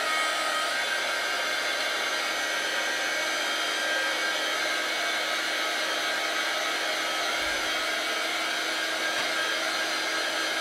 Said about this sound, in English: Now I'm going to take my blow dryer, heat gun, whatever. You can use a hair dryer, heat gun, doesn't matter.